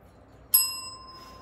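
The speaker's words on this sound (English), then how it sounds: "I'm going to be ringing the bell" A single bright bell strike rings out after a moment of quiet, its clear tone lingering and slowly fading.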